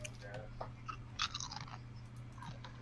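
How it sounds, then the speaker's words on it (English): Someone crunches on chips, with a few sharp crisp bites and chewing scattered over a low steady hum while a voice speaks. "Who's eating chips?"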